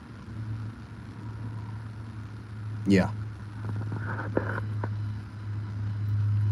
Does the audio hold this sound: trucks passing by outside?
yes